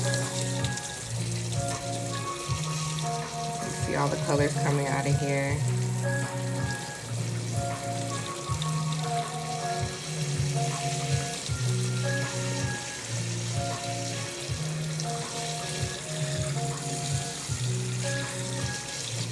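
Running tap water pours over tie-dyed fabric as it is rinsed, a continuous splashing hiss that holds steady for nearly twenty seconds with faint hum beneath and a brief spoken remark early on.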